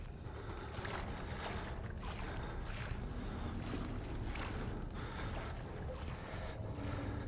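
Water sloshes and churns in the Outlast horror game, a dense, continuous washing roar with gusty surges, loud and enveloping with no voice over it.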